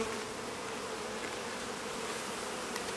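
Honey bees hum around an open hive, a dense, steady, close drone filling the clip with no voices.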